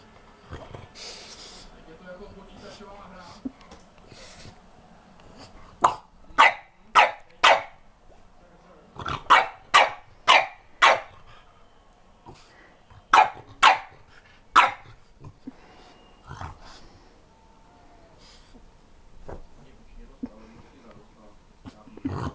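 A dog barks in short bursts, several quick sharp barks in clusters, fairly close, with a person talking softly in between.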